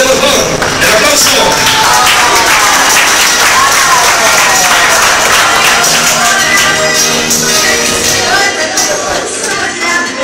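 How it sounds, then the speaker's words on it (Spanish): A crowd at a quinceañera celebration applauds the girl's mother, dense continuous clapping throughout, loud and close, with music and voices mixed underneath. "Denle las manos fuertes, por favor. ¡El aplauso!"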